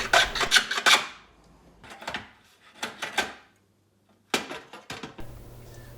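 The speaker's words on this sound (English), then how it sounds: "use a block plane for an angle on the front of your phone stand" A block plane shaves the front angle of a small wooden phone stand in a few separate rasping strokes, close and fairly quiet, with pauses of near silence between passes and a faint hum near the end.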